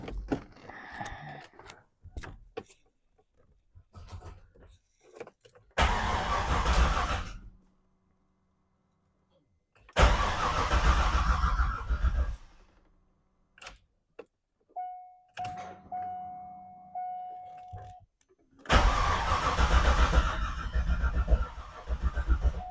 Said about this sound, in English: now let's see if she'll crank up